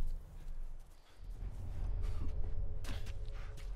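Hooves of a horse in a video game clop and thud across the ground, a steady low rumble of movement that grows fuller and louder after the first second, with faint background ambience and no speech.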